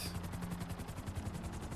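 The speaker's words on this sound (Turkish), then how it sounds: "Helikopter turu." Helicopter flying in GTA 5 Online on PS4, a steady rapid rotor chop with engine whine, close and continuous, with no talk over it.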